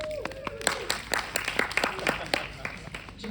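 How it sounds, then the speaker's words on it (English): A crowd at a Black Writers Weekend panel in Los Angeles gives scattered, crisp claps while a voice keeps talking over them. "Clap it up for her."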